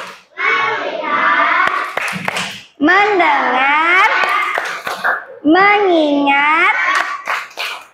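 Children's voices chant a rhythmic classroom focus routine in an Indonesian primary lesson, punctuated by sharp, close claps between phrases in three chanted bursts.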